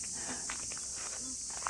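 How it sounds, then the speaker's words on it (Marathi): Crickets in a Konkan village in the morning keep up a continuous high-pitched drone throughout. A few soft footsteps and small rustles sound close by. "रातकिड्यांचा आवाज बघा काय येतोय"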